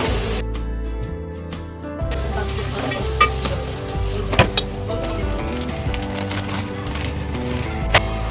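Jaggery dropped into hot ghee in a pan while making puran poli, giving a steady close sizzle with scattered crackles and a few sharp clatters, no talking.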